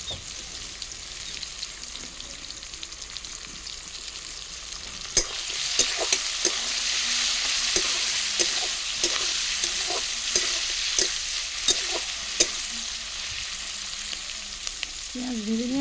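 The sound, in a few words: onions frying in a pan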